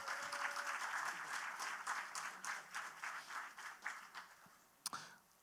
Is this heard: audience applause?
yes